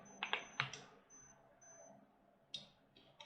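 A few sharp keyboard clicks from pressing a Control Alt S shortcut, a quick cluster near the start and another single tap later, faint in a quiet room.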